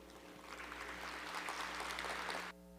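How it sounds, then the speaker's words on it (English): Audience applause welcoming a speaker at a conference session, a faint, steady wash of clapping that swells briefly and cuts off abruptly near the end, leaving a low hum. "So please welcome him with a big round of applause."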